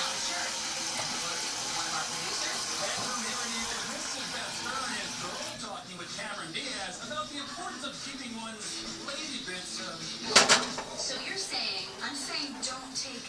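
Steady rushing water pouring from a tap into a pot, continuous throughout, with a clatter partway through and faint talk in the background.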